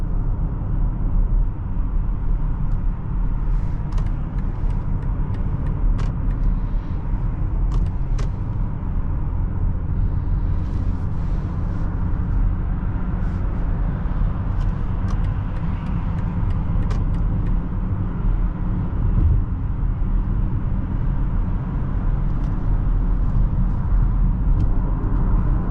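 A 2021 BMW X5 xDrive40i pulls forward under acceleration, its engine a steady low hum beneath constant road and tyre rumble heard from inside the cabin, with a few faint clicks scattered over the drive.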